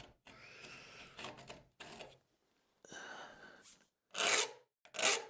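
A curved cabinet scraper is rocked back and forth while being sharpened, giving short bursts of rasping, scraping strokes separated by brief pauses, close and fairly quiet.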